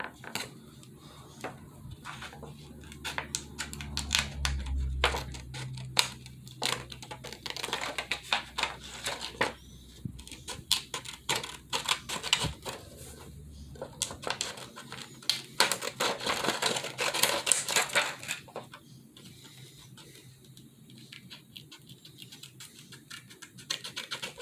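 Small tool cutting out a miniature stained glass window shape, a long run of dense, rapid scratching and tapping clicks, close and steady, easing off near the end.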